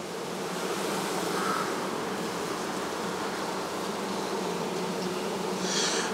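Honeybees in an open beehive hum in a steady, soft buzzing drone throughout, close and continuous, with no talking.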